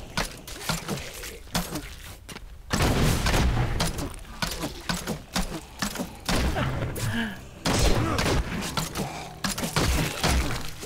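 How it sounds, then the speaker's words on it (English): Bombs exploding in the Diablo 3 beta: dense, loud bursts of blasts and shattering crashes that come one after another over a steady rumble of combat, with a voice talking faintly underneath. "More bombs. These bombs don't do any damage."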